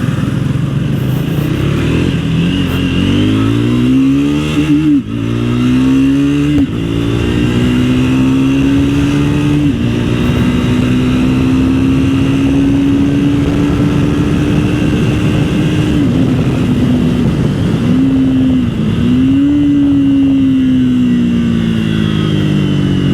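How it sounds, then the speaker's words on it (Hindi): A 2024 Triumph Speed 400 motorcycle accelerates hard, its engine note climbing through the gears in rising sweeps with brief dips at each shift, loud and close for the whole stretch. "आपने इसका पिकअप देखा कितना ही खतरनाक था, एक्सेलरेशन बहुत ज़्यादा एक्सट्रीम तरीके से बाइक गई थी।"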